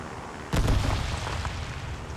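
Bombs from an air strike in the Trailmakers video game detonate in a sudden booming burst after a quiet moment, with a rolling rumble that lingers and fades.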